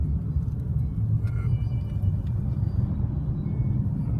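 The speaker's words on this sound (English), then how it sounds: "So there's a few cars overtaking us" Cars pass on a remote, empty Icelandic road, a steady low road rumble and tyre roar filling the whole stretch with only faint swells as vehicles go by.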